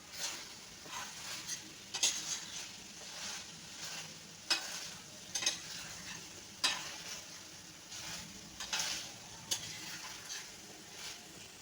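Paneer chilli sizzles in a frying pan while a spoon stirs it, with repeated scraping and clinking strokes over a steady frying hiss and no voice.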